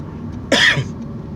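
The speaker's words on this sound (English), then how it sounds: "allergy cough" A single short, sharp cough up close, standing out against quiet background noise.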